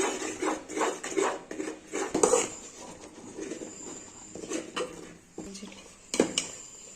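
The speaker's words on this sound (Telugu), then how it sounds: "ఇప్పుడు కంటిన్యూస్గా ఇలా కలుపుతూనే ఉండాలండి లేకపోతే ఉండలేకపోతాయి చిక్కబడేదాకా ఇలా కలుపుకుంటూ ఉండాలి" Moong dal batter stirred continuously in a pan, with repeated close scraping and clattering of a utensil against the metal in an uneven rhythm.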